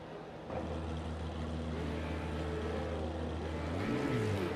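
Racing car engines droning together at the start of a video-game race at Spa-Francorchamps: a steady, loud, layered engine hum with sustained tones, building and rising in pitch near the end as the cars accelerate away.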